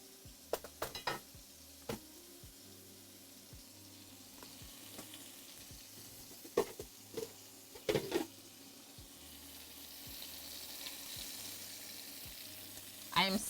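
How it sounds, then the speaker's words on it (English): Veal and sage frying in a pan give a steady, fairly quiet sizzle, broken by scattered sharp ticks and clinks of a utensil against the cookware. "I'm smelling the sage now too, as it's frying up."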